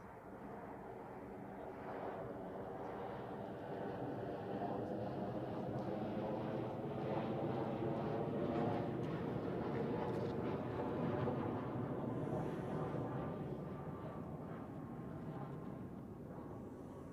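A passenger airplane landing at Zurich Airport, heard from a distance as a broad steady roar of engines that swells and fades slowly, with wind noise.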